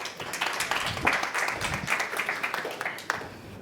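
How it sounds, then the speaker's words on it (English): Applause from an audience at a hospitality technology conference as a sales director is welcomed to the stage, a dense, diffuse wash of clapping at moderate level with a few louder claps near the end. "A round of applause, please."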